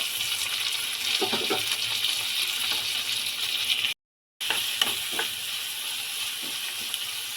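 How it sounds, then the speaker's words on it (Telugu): A large chopped tomato goes into a hot frying pan for a chana dal and fresh coconut curry, giving a steady close sizzle with soft scraping and clinks, and a brief silence partway through. "ఒక పెద్ద సైజు టమాటా అయితే కోసుకొని వేసుకుంటున్నాను"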